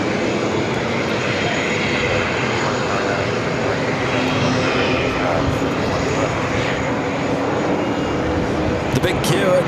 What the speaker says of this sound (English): See some movement on this Delta A220-300, the flight heading back to Minneapolis